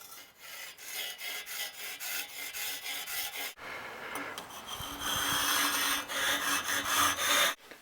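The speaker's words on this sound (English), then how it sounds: "I'm going to use a much smaller saw this time with much finer teeth" A small fine-toothed hand saw cuts a notch in brick with steady back-and-forth strokes, followed after a brief pause by a file rasping rhythmically at the corner, close and fairly loud.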